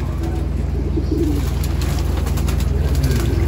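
Breeder pigeons bathing in a loft, with repeated soft cooing calls and faint splashing over a constant low hum, close and continuous.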